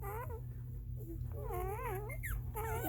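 Several puppies whimper and whine in high, wavering cries, overlapping one another close by, with a low steady hum underneath.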